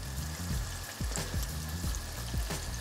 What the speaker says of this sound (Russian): Я буду жарить во фритюре на обычной сковороде.